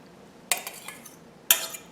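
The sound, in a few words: eggs being beaten with riced cauliflower in a bowl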